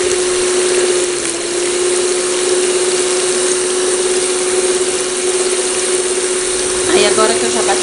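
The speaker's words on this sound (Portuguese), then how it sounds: "E agora eu vou ligar a batedeira pra bater" An electric mixer beats the liquid ingredients for a chocolate cake batter with a steady, continuous motor whine that holds level throughout, a brief clatter near the end.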